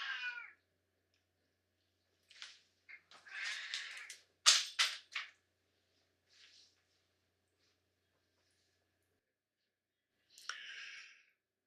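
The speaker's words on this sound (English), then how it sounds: "Sorry about my cat in the background." A domestic cat meows indoors beside someone working at a computer: a short meow at the start and another near the end, fairly close, with quiet clicks and small noises between.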